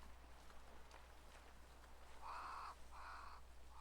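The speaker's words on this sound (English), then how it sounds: "Crows." A few crows caw in quick pairs over a faint steady background of soft pattering, fairly close and clear, in the video game Banishers: Ghosts of New Eden.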